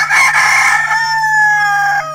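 A rooster crows loudly on a farm that keeps pigs, chickens, geese and ducks, one long drawn-out cock-a-doodle-doo held for about two seconds with a steady background hum.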